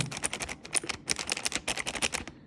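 Clicky keys on a Razer mini 65% wireless keyboard are typed quickly and closely, making a dense run of sharp, irregular clacks.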